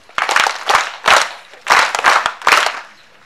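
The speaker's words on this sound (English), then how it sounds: "Let's give them a clap." A school gathering at a World Environment Day celebration breaks into loud, close rhythmic clapping in four distinct bursts, each a cluster of quick hand claps separated by short pauses.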